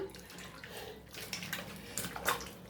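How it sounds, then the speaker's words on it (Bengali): Cleaned shing catfish are rinsed under running water, a continuous close splashing and trickling with small surges as hands rub the fish. "এখন ধুয়ে পরিষ্কার করে নিচ্ছি"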